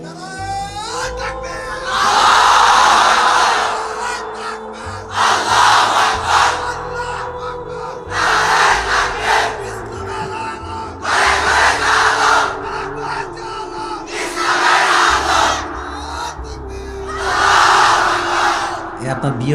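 A large crowd at a religious gathering roars the takbir chant in repeated loud collective waves, each surge a few seconds long with brief lulls between, full and close.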